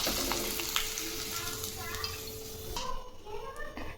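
Rice and moong dal papads fry and puff in hot oil with a steady crackling sizzle, and a voice talks over the frying near the end.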